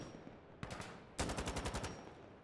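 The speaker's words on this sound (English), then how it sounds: "The heck is up with the way my gun is firing?" Gunfire in the shooter game Insurgency: Sandstorm, a short automatic burst followed by a longer rapid string of shots, loud and close with a stuttering rhythm.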